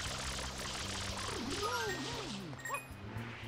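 Water spraying from the hose-like water pack in Super Mario Sunshine, a steady hiss with gliding tonal chirps and musical game sounds over it, with no talk.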